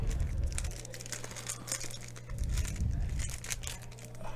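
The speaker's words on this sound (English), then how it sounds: "You can hear Jake shuffling his cards back here" Playing cards being shuffled during a tabletop card game match, a soft, crinkly riffle-and-tap patter that comes in two clustered bursts over a low background hum, with no speech.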